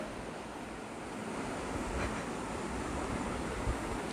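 Mixer grinder whirring steadily as it grinds coconut with mustard seeds, cumin and turmeric powder into a paste for mango pachadi, a continuous dense roar with no pauses.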